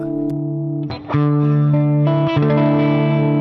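A sustained electric guitar chord rings through a Boss Katana amp with EQ off, giving a dull, muffled tone, briefly cut and restruck twice, loud and close with no talking.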